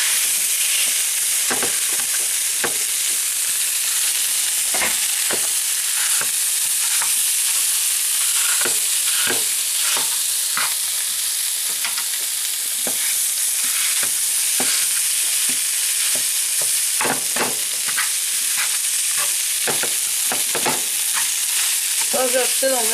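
Onions fry in leftover corned beef fat, giving a steady close sizzle throughout, broken by frequent scraping and clicking as the pan is stirred.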